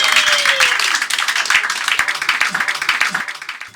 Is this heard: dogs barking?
no